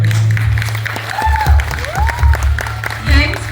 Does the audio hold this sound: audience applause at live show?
yes